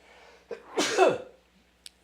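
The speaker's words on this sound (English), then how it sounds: "I'm about to sneeze" A single sharp sneeze, preceded by a quick intake of breath, close and fairly loud in an otherwise quiet space.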